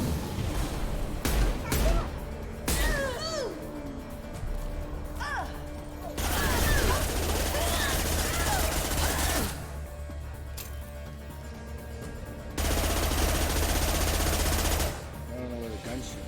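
Gunfire in the video game Mass Effect 2, bursts of rapid automatic shots and impacts alternating with quieter stretches, set against game sound effects and voices.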